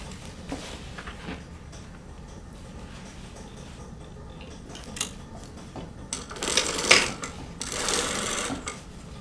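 A sewing machine stitches a 1/4 inch seam, heard as a soft mechanical whirring that grows louder and denser in a couple of bursts toward the end, with no voices.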